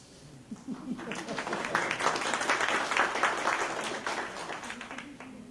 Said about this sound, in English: Give him a little applause.